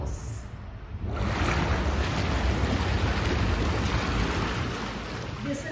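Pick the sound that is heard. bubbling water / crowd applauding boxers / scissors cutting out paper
bubbling water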